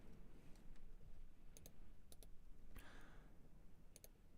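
Several quick, faint computer mouse clicks come in spaced pairs over a low background hiss, with a soft rustle in the middle.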